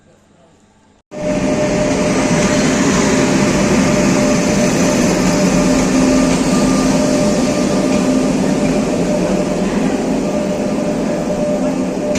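A Nagercoil–Chennai special fare express pulled by a WAP 7 electric locomotive roars in abruptly after a near-silent second, then holds as a loud, steady, dense rumble to the end.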